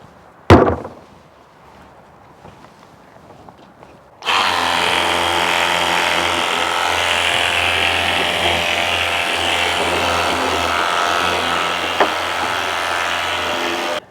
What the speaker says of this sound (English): this has enough of a powerful stream that it's actually hitting the really dirty corners of the inside of the garbage can